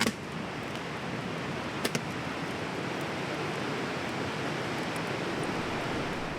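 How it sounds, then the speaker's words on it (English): A steady broadband rush of a flowing river in northern British Columbia fills the whole clip, continuous and fairly loud, with a couple of faint clicks. "rocked by the sound of the river"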